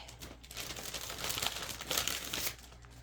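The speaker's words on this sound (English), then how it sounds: "So now I'm going to use my foam tape." A roll of black foam tape being unrolled and handled at close range while making a card, giving continuous crinkly, crackling rustles that rise and fall for a few seconds.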